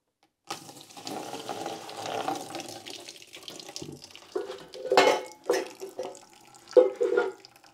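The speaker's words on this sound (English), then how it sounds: "Just gonna let that drain for a bit." Petroleum flush drains out of a Datsun 120Y differential and splashes into a container, a steady close watery pour with a few louder gushes near the end.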